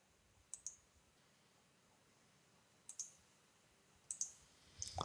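A computer mouse gives a few sharp, close clicks in small clusters, spaced apart against near silence.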